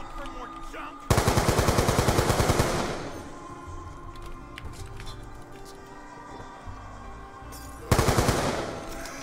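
Video game gunfire in Black Ops 2 Zombies on the Die Rise map: two loud bursts of rapid automatic fire, the first lasting about two seconds and the second starting near the end, with quieter game ambience between them.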